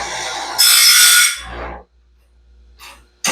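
A grinding stone works the Stellite teeth of a Norwood saw band in short rasping passes, a loud bright scrape that fades out, then brief touches of grinding after a pause.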